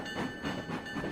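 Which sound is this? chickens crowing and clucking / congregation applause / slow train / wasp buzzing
slow train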